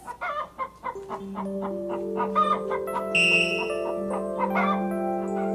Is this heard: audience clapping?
no